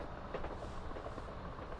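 A train rumbles along in a railway simulator game on the Portsmouth Direct Line, a steady rolling drone with faint rhythmic clicks and no voices.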